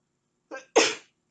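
A single sneeze close to the microphone: a short sharp inhale followed by a loud explosive burst, then silence.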